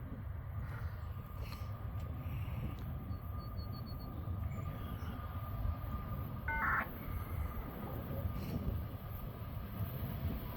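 A BNSF-powered freight train rolls past at a distance, a steady low rumble of locomotive and train cars with faint wheel squeals, no talking.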